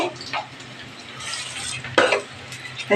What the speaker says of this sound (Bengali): আর পকোড়া কয়টা ভেজে নিয়েছিলাম, আর এখন বাদ বাকিগুলো ভাজছি